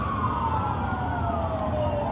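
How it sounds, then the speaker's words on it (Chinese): Fire engine sirens wail loudly and continuously as the trucks arrive at a fishing harbor fire where boats and jet skis are burning, with a slowly falling tone. "消防车一台接一台抵达现场。"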